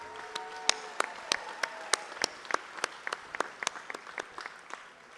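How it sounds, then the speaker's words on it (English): An audience at an elders' gathering applauds singers and dancers, with several distinct hand claps ringing out over a lighter spread of clapping, a faint lingering tone fading at the start, and the applause gradually tapering off. "Let's give them a big round of applause."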